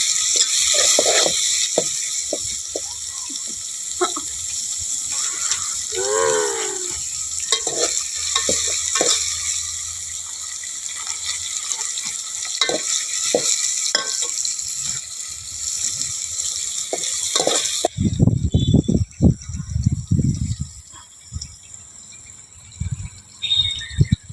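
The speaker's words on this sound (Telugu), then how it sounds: "చూడండి ఫ్రెండ్స్, ఇట్లా ఉల్లిగడ్డ మంచిగా వేయించుకోవాలి" Two large sliced onions fry in oil in a pan over a wood-fired stove for a mutton curry, a steady loud sizzle with repeated spatula scrapes, turning to heavier, closer clattering stirs near the end.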